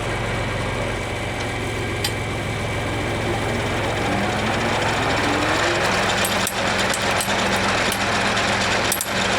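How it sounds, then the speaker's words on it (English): Hay mower driven off a tractor PTO runs with a steady, loud mechanical drone and engine rumble, with repeated sharp metallic knocks and clatters near the end as metal parts strike each other. "now we're gonna turn the PTO on."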